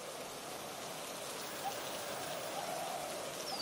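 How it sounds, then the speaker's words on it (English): Steady rain falls on dry grassland, a dense even hiss of drops with occasional brighter patters, constant and moderately loud with no voices. "Gales rock the sturdy branches and raindrops dampen the arid ground."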